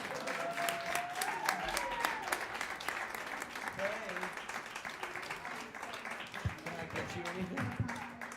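Audience at a jazz show keeps applauding steadily for a singer taking the stage, a dense wash of clapping with some talk and a microphone check sound underneath.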